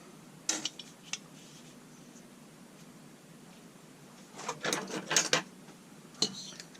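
Tools loosening and removing screws and parts on a Husqvarna 181 chainsaw during teardown, sparse metallic clicks and clinks with a busier burst of rattling near the end, fairly faint in a quiet room.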